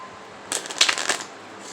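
A quick riffle of tarot cards being shuffled, a short papery flutter lasting about a second, close and fairly soft.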